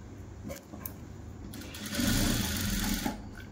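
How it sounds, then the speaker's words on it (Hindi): A sewing machine stitches the waistband of a palazzo, running in a steady close whir that rises louder for the final second and a half before easing off. "म्यानी में मैं कैसे सिलाई लगाती हूँ"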